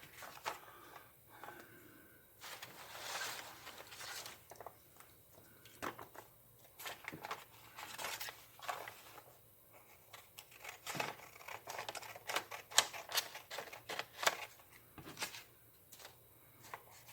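Scissors cut through old book pages while a junk journal is made, giving repeated short snipping and crisp paper rustles in uneven bursts, close and fairly quiet, with brief pauses between cuts.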